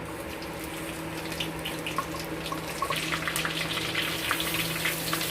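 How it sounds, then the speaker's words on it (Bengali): Whole spices sizzle and crackle as they hit hot oil in a clay wok for chicken kosha with goat fat, a soft hiss that grows into brighter popping spatters partway through. "তেলটা গরম হয়ে গেছে। এবার আমরা দিয়ে দেব গোটা মশলা।"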